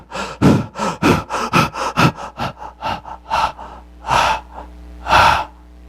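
A voice imitates Cheyne-Stokes breathing after apnea: a run of loud, close, rhythmic gasping breaths that quicken, then slow into a few deeper, spaced-out gasps.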